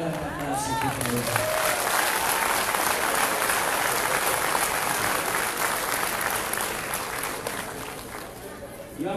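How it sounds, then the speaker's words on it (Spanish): A conference audience breaks into sustained, dense applause that swells and holds steady for several seconds, after a brief moment of someone speaking. "si el público que está vivo regala un aplauso, por favor"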